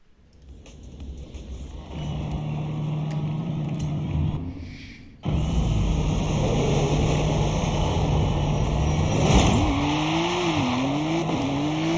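Stock Ford GT500 pulling hard on a speed test run, a loud continuous engine roar with a brief dip around a gear change, then rising revs and tire noise.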